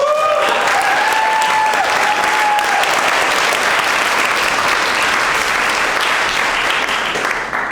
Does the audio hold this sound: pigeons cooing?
no